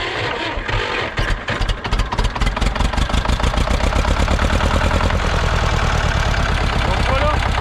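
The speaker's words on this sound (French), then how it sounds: "Ça c'est le démarrage du D22, du D35, de pas mal de trucs en fait." A Renault D22 tractor's diesel engine, started without glow plugs, turns over in a few uneven cranking chugs and then catches into a loud, rapid, steady idle, heard close up.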